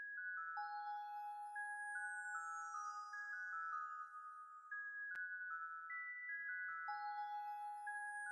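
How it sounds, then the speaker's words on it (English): Cascading synthesized bells from the Expand plugin's bell section chime in bright, sustained descending tones that layer and ring out, clean and alone. "Cascading bells in the bell section of Expand"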